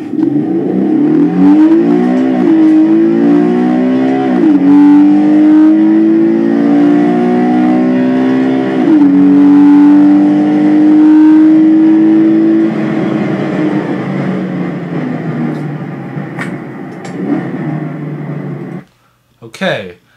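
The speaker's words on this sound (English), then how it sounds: "let's listen to a bunch of V6 sounds and compare it with a V12 Lamborghini." Several V6 car engines rev hard in turn, a loud sustained snarl rising and falling in pitch and cutting out near the end with a brief final blip.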